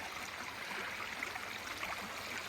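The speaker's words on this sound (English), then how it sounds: "The spring into the pond is really dumping in a lot of water." A spring pours strongly into a pond, making a steady, even rush of flowing water with no breaks, fairly soft and heard on its own.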